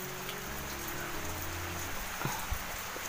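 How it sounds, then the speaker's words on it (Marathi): Rainwater drips from the leaves of a papaya tree during monsoon rain, a steady soft patter of falling drops with a few sharper drips standing out nearby. "पपईच्या झाडाचं हे बघ ना कसं ते पाणी बस थेंब थेंब पडतंय खाली"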